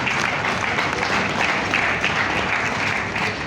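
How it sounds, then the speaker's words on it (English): Sustained, even applause from a business nutrition summit audience fills the space, dense clapping from many hands at steady loudness with no talk over it. "Can we applaud Nestle Nigeria PLC?"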